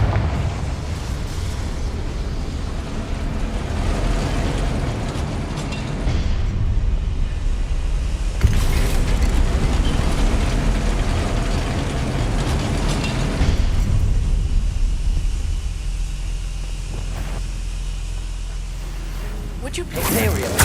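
A Confringo blasting spell detonates in Hogwarts Legacy, booming explosions and rumbling bursts rolling over a sustained roar across a long stretch of game sound, with speech now and then.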